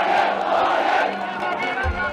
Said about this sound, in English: These are some of the biggest crowds since 2007.